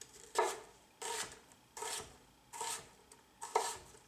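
A knife slices through an onion onto a cutting board in five separate close strokes, each a short rasping cut ending in a soft tap, with pauses between them and no talk.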